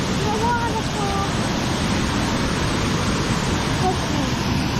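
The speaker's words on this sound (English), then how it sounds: "Taking a walk through the waterfall." A waterfall pours in a continuous, loud, even rush of water, heard up close without a pause across the whole stretch.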